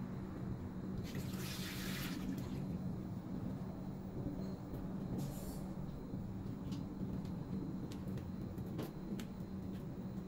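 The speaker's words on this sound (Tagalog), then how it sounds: "Ano yung buhos ng tubig mabilis." Heavy rainwater pours fast and steady on a cold rainy night, a dense continuous rushing wash with a few brief louder splashing bursts and no talk.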